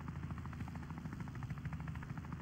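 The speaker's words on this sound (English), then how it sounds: "Wanna get in my helicopter?" Helicopter in the video game Wobbly Life, its rotor giving a steady, rapid thumping whir with a low engine drone, held at a constant level throughout with no speech.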